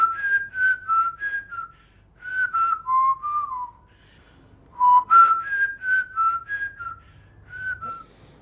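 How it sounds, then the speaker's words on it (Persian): A man whistling loudly at home, a clear melodic tune in three phrases of quick, sliding notes with short pauses between them, close and alone without other sounds. "من هر جا دلم بخواد سوت میزنم."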